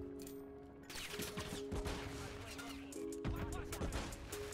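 Shots from an MCW 6.8 marksman rifle in Modern Warfare 3, a few sharp cracks at irregular intervals over constant game ambience, with a voice talking over them.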